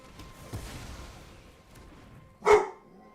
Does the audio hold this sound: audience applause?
no